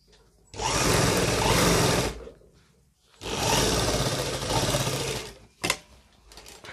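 A tailor's sewing machine stitches a back pocket onto men's trousers in two sustained whirring runs, loud and close, followed by a brief mechanical clack.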